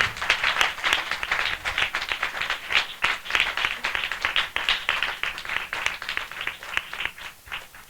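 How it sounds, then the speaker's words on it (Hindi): An audience in a church gathering claps warmly, giving a dense, continuous ripple of applause that holds steady and then gradually thins toward the end. "हम जोरदार ताली से उनका स्वागत करें।"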